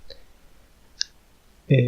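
Mouse clicks on a download button on a web page: two faint, sharp single clicks about a second apart, followed by the start of a voice.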